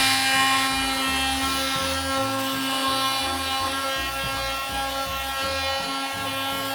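Electric sander working across wood surfaces in a room being prepared for painting, a steady loud motor whine with a low, shifting rhythmic rumble as the pad moves, continuous throughout with no talk.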